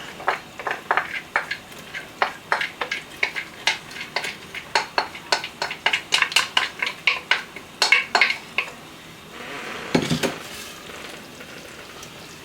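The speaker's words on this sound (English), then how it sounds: "Stir it around." Soaked chickpeas being stirred in a cooking pot, a steady run of rhythmic scraping clinks from a spoon against the pot over a faint sizzle, close and clear with no speech.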